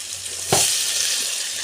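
Water poured into rice that has been cooking in oil for masala rice gives a sudden loud burst of sizzling, which settles into a steady, close hiss that continues to the end, with no voices.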